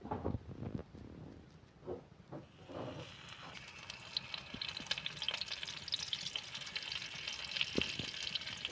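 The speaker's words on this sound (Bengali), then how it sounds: "তেল গরম হয়ে গেছে, এবার আমি মাছগুলো দিয়ে দেবো।" Koi fish go into hot oil in a pan with a few knocks and clatters, then a steady crackling fry with sharp pops builds and continues close by.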